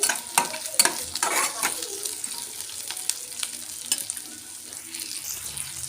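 Onions frying in a pan, a steady close sizzle broken by scraping stirs and light clinks during the first couple of seconds, then a softer continuous crackle.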